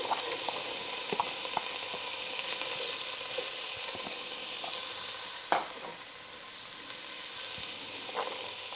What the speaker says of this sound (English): into 3 tablespoons of olive oil. I'm going to put in my onion.